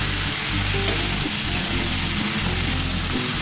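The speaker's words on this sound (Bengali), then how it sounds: "ভালো করে ভেজে নেবো, কষিয়ে নেবো, মশলার কাঁচা গন্ধটা যাবে।" Spices sizzle in a pan with drained cabbage as they are fried and stirred down, a steady, dense hiss running throughout with faint low rumbles underneath.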